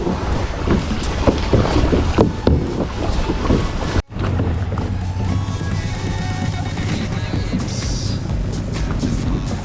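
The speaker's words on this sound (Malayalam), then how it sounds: "ഈ ഹൗസ് ബോട്ടൊക്കെ വരും കേട്ടോ. ഇങ്ങനത്തെ ബോട്ട് പോകുന്ന നേരത്ത് നല്ല ഇളക്കമാണ്" A houseboat passes on the Alappuzha backwaters near a kayak, a loud rumbling engine drone mixed with heavy wind buffeting the microphone, steady throughout after a brief dropout.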